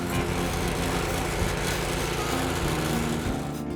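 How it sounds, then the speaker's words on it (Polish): Cedrus GL01 garden tiller with a 196 cc Loncin G200F petrol engine running, a loud, steady close-up engine drone with no talking. "Cedrus GL01. Najlepiej sprzedająca się glebogryzarka w swojej kategorii."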